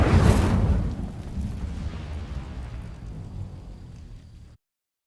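An Incendio fire spell from Hogwarts Legacy bursts against dry vines with a loud, close whoosh, then a crackling burn that fades over several seconds before cutting to silence.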